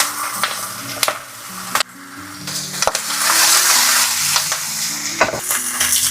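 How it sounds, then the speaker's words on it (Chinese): Large chunks of pork belly fry skin-side down in a lightly oiled pan, giving a loud, steady sizzle with occasional scrapes and knocks as the pieces are placed and moved. "五花肉切成这种大块，锅里喷点油，猪皮朝下摆到锅里"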